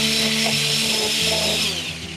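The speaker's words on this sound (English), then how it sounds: "I then smooth out the sharp edges with my orbital sander." An orbital sander smoothing the sharp sawn edges of wood hums steadily and evenly at close range, with no voices.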